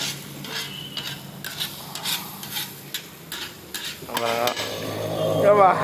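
Kothu parotta being mixed on a hot griddle, with repeated metal spatula scrapes and clanks over a soft sizzle. The strokes get busier and more continuous toward the end.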